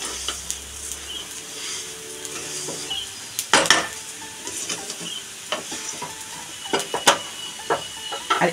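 Rice with cashews and raisins frying in a pan for a Bengali pulao, with a continuous sizzle under repeated scrapes and clinks of a spoon stirring against the pan, close and fairly loud.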